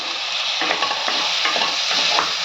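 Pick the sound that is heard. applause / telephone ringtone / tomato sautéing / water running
tomato sautéing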